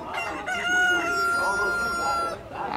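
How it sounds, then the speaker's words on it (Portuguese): Roosters crow and chickens cluck at a busy poultry fair in Caruaru, Pernambuco, with a long crowing call close by over the low market din. "Olha as galinhas, pessoal."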